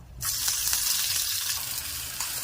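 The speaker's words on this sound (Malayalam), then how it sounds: "ഒരു പാനിൽ കുറച്ച് വെളിച്ചെണ്ണ ഒഴിച്ചു കൊടുക്കാം. കടുക് ഇട്ട് കൊടുക്കാം. കറിവേപ്പില ഇടാം." Mustard seeds and curry leaves in hot coconut oil in a pan give a steady, loud, bright sizzle that begins abruptly and continues evenly throughout, with no voices.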